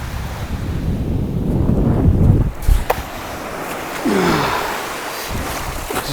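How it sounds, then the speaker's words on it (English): Ocean waves wash up on a sandy beach in a steady, rushing surge that swells and recedes, loud and close, with gusting wind buffeting the microphone. "If I can get some water over that, a bigger wave."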